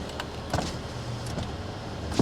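A 2018 Mazda 3's power window hums as it moves, with a few faint clicks and knocks from inside the vehicle; no one talks.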